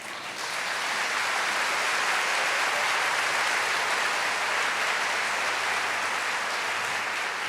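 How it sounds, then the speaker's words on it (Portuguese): An audience at a church sermon breaks into sustained applause, a dense, steady wash of clapping that swells quickly and holds loud throughout. "isso merece um aplauso"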